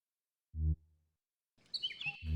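Small bird chirping in the video game Colossal Cave: a short, faint run of bright, twittering chirps that comes after a brief low thump, followed by another dull thud.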